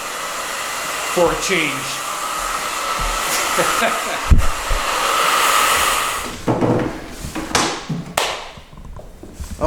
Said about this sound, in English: I use the grooming tonic to blow dry the hair in a natural fall